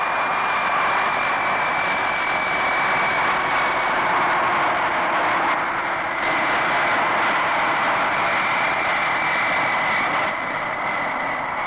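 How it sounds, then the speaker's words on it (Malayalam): Steady broadband roar of a passenger airplane's engines near an airport, continuous and fairly loud throughout with a faint whine on top, no voices. "ഇത് നമ്മുടെ പ്ലെയിൻ ആണെന്ന് തോന്നുന്നു."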